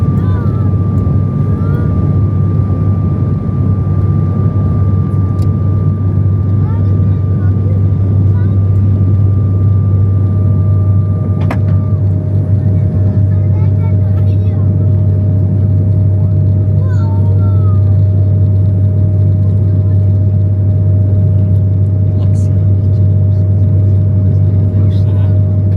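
A passenger airliner taking off produces a loud, steady low cabin rumble with a constant engine drone, continuous for the whole stretch, with a faint higher tone shifting partway through.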